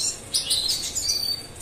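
Bright, high-pitched European goldfinch chirps and twitters in quick irregular bursts, close by, with no voices.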